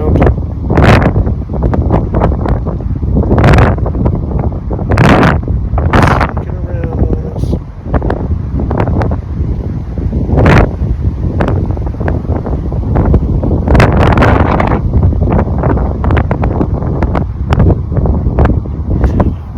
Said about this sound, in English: maybe I should take that wind as a sign